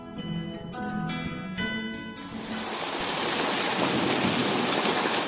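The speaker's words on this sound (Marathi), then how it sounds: "2 दिवसांपासून पावसाची झड काही थांबलेली नव्हती." Heavy rain pours down steadily as a sound effect, with a low thunder rumble, swelling in after a soft musical opening and then holding loud and continuous.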